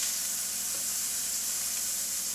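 Eggs fry in a pan for a breakfast sandwich, a continuous close hissing sizzle that holds steady throughout the short stretch, no talking.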